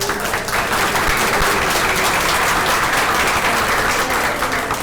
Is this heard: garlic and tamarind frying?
no